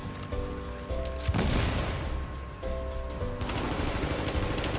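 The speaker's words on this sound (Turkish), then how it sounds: "Şuraya bir bomba atalım da görsünler" In the video game Tom Clancy's The Division, a thrown bomb explodes with a heavy boom amid bursts of gunfire. Shots and blasts rumble in repeated waves over a continuous background of game noise, with no talking.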